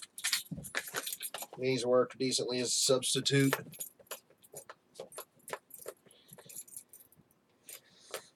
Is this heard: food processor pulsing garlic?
no